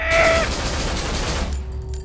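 Burst of gunfire in the survival horror game Cry of Fear, a loud dense volley with a sharp onset, ringing on for about a second and a half before dropping to a low rumble and quiet tail.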